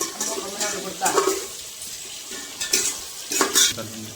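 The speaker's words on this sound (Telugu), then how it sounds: "కరివేపాకు కూడా ఇప్పుడు వేసేసుకోవాలి." Fresh curry leaves drop into hot oil for pumpkin rice, giving a soft continuous sizzle punctuated by several brighter crackling bursts and light utensil scrapes, close and fairly loud.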